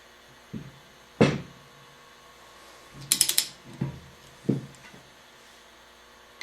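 A torque wrench loosening an engine bolt gives a few sharp ratcheting clicks and metallic knocks spread over several seconds, close and clear with no talking.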